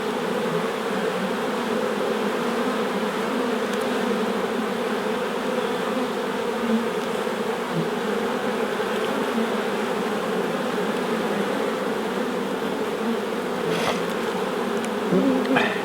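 Honey bees swarm around an open hive affected by wing virus, producing a dense, steady, close buzz that holds unbroken throughout, with no voices.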